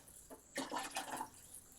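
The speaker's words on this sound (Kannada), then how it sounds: "ನೀರು ಹಾಕಿ" Water poured into washed rice and vegetables in a cooking pot for coriander leaf pulao, a short splashing pour that swells after a faint start, then trickles off, close and fairly quiet.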